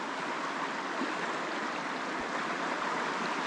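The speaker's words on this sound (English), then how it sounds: "Here's the little creek." A small creek flowing in an alpine wilderness, a steady, even wash of rushing water with no pauses, close and moderately loud with no voices.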